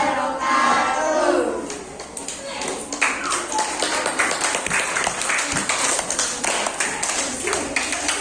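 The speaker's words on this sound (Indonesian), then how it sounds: "Tepuk tangan lagi" An audience at a teachers' coaching presentation claps and applauds, a dense wash of hand claps that starts loud, dips briefly, then continues as scattered patter with a few crowd voices mixed in.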